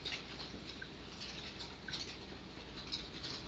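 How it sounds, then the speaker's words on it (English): Big raindrops fall in a steady, dense patter, a continuous wash of close, even hissing taps with no voices over it. "We're getting rain here now, and it sounds beautiful."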